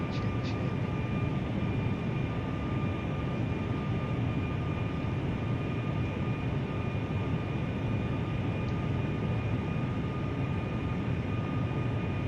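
Steady, unbroken drone of a simulated airliner cabin and engines in a flight simulator as the landing gear is lowered on approach, a constant broadband roar with a faint tonal whine throughout and no distinct events.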